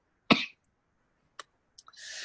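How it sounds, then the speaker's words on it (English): A single loud, close cough bursts out, followed by a few faint short sounds and then a steady breathy hiss, with no talking. "since Ecuador, I've been coughing"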